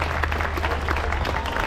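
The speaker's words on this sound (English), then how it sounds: "Let's give her a nice round of applause." An audience at an outdoor bird show in a garden applauds a trained bird, a brief, steady burst of clapping at moderate distance.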